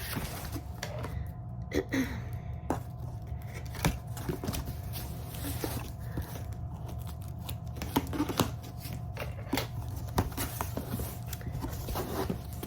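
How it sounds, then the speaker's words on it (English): Intermittent snips and crinkly scraping of scissors working through cardboard, with soft handling noises and a steady low hum underneath. "I'm using the wrong scissors to open it"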